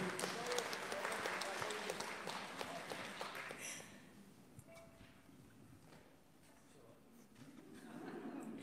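Audience applause at a symphony orchestra concert in St Petersburg's Catherine's Assembly, a dense crowd clapping loudly for several seconds before thinning out, then rising again faintly at the end, with a few voices mixed in.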